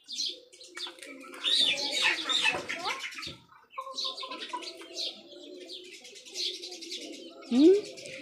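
Sparrows chirping around a home, with quick bright tweets and busy overlapping calls close by, plus a few low cooing notes. The chirping runs almost throughout, with a short pause in the middle and a louder burst near the end.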